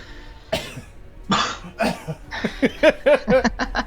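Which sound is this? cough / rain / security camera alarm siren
cough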